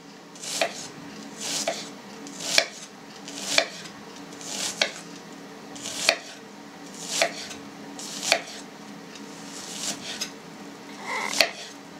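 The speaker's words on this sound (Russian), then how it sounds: "Лук надо порезать тоже достаточно мелко" A knife chops onion into fine strips on a board for manti filling, about a dozen crisp, evenly spaced cuts roughly one per second, close and clear with no talk.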